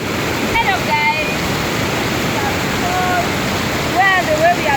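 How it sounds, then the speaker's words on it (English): Steady rushing roar of water pouring down at Aruu Falls, a broad continuous wash with a few voices and whistles faintly audible over it. "the water is falling from the high altitude, coming down to a lower altitude."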